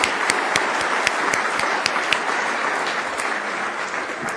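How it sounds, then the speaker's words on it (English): An audience applauds college agriculture students at a conference opening session, a dense sustained burst of clapping that starts at full strength and tapers slightly, with a few sharp individual claps standing out. "Let's give them a round of applause"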